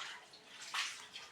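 Water is poured in a short, close splashing rush that swells briefly in the middle, faint overall with no speech.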